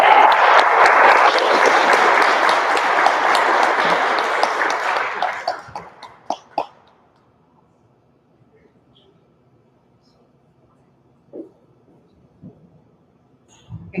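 Loud, sustained applause from a school board meeting audience honoring a student of the month, lasting about five seconds before fading into a quiet room with a few scattered claps and small noises.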